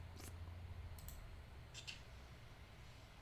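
A computer mouse clicks a few times in short, sharp pairs during video editing, quiet and close over a low steady room hum.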